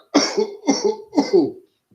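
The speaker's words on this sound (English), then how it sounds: "that's my other cough" Three harsh, evenly spaced coughs close up, each with a throaty rasp, then silence.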